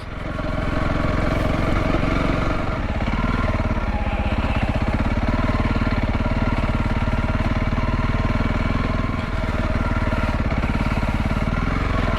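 Motorcycle engine running steadily and loud throughout while riding along smooth green lanes, a constant low drone with little change in revs.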